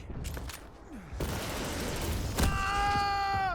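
Weapon fire from a nail gun and rockets in a video game duel: sharp bursts and booms, then a sustained tonal whine toward the end, heard alone without commentary.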